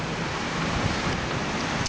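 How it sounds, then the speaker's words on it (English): Heavy monsoon rain pours down steadily over a court, a dense, constant roar close by with no breaks or other sounds. "We didn't get the thunder and lightning as I expected, but we certainly got the rain."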